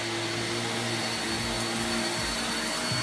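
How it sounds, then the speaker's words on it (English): A vacuum cleaner runs steadily on a floor with a loud, constant motor whine and roar that stays unchanged throughout, with no voices. "I can't wait for the day I can just vacuum my floor"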